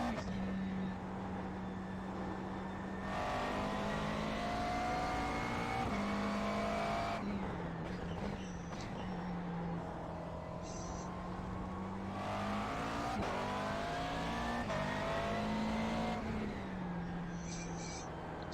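A McLaren GT3 race car engine drones steadily around Brands Hatch in iRacing, rising and falling in pitch through shifts and throttle changes, with brief tyre squeals and a quiet voice underneath.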